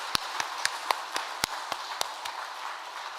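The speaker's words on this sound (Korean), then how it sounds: "우리 하나님께 감사의 박수 한번 올리겠습니다." A church congregation at a Korean Sunday service claps in thanks, with sharp, evenly spaced claps in a steady rhythm over a bright, reverberant room wash.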